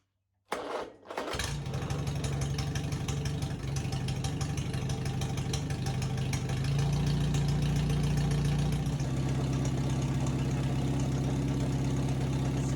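A four-cylinder flathead car engine cranks briefly, catches and settles into a steady, loud idle with an even rhythmic chug that rises slightly partway through, with no talking.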